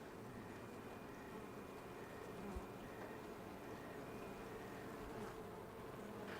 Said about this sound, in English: You want to see your frames covered with bees,